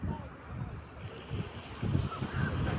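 Ocean waves washing in on a beach in the morning, a steady low surf roar with gusty wind buffeting the microphone and swells building toward the end.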